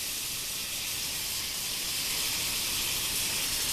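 Walmart Alfredo sauce poured into a pan, a steady soft hiss and gentle sizzle running evenly throughout with no talking.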